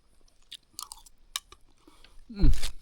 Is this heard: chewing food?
yes